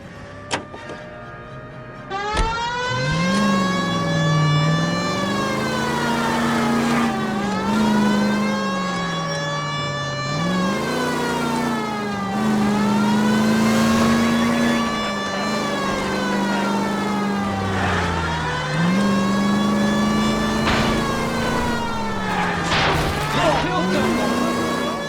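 A car with a wailing siren drives in the L.A. Noire video game as the siren rises and falls repeatedly over engine noise, loud and close, with some speech.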